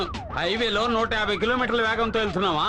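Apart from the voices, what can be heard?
car siren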